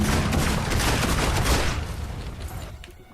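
A burst of gunfire in the video game Fable II rattles out loud and dense, a rapid volley that dies away over about three seconds with no voices over it.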